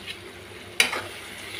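Raw prawn coconut curry stirred in a pan, with one brief scrape of the spoon against the pan over a faint, steady sizzle. The sound is quiet and close, with no talking.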